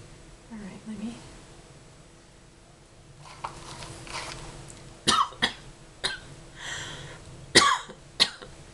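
A woman gives several short, close coughs and throat clears while applying false lashes, a few sharp bursts in the second half over a quiet room with faint rustling.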